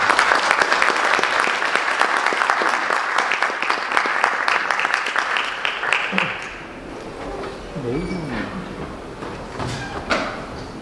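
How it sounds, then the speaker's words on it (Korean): Audience applause greets a guest lecturer at a Korean defense seminar, dense steady clapping for about six seconds, then fading into quieter room noise with a voice beginning to speak. "큰 박수로 맞이해 주시기 바랍니다."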